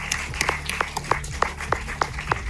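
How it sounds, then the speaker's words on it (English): A small audience at a film screening panel claps for the film's stars, a sparse run of distinct handclaps in an uneven rhythm over a low background hum. "Let's hear one more round of applause for our stars."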